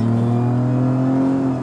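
A 2009 Nissan Maxima engine in performance mode pulls under acceleration, a loud, close, sustained droning hum with steady tonal harmonics that holds for the whole stretch and eases slightly at the end.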